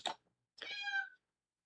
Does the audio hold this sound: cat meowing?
yes